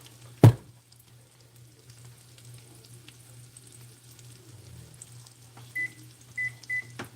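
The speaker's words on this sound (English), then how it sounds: "I'm going to put these potatoes back in the oven." Baked potatoes go back into a kitchen oven: one sharp, close thud of the door or rack, a quiet stretch with faint hum, then three short electronic beeps near the end.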